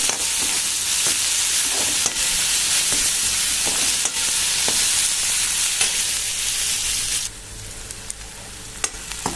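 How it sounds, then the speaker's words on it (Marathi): Chopped onion frying in oil in a pan for a dry cluster bean dish, a loud dense sizzle with occasional stirring knocks, easing to a quieter hiss toward the end, close by with no talk. "आता हा छान भाजून घ्यायचा तेलामध्ये।"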